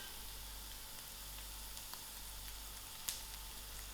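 Curry leaves and chillies frying in a pan, a quiet, steady sizzling hiss with faint crackles and one sharp pop near the end.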